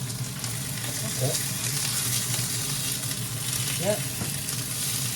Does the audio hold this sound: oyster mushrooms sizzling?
yes